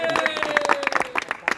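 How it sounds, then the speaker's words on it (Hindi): Hands clapping during a Holi celebration gathering in Marachhi village, a run of sharp irregular claps close by, mixed with voices and crowd chatter throughout. "ताली बजाओ भाई"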